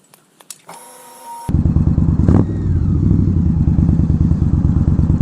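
An Indian Scout Bobber motorcycle engine fires up after a few clicks and an electronic tone, then settles into a loud, close, throbbing idle with an even pulsing rhythm.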